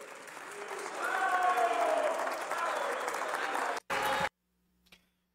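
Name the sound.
applause in the senate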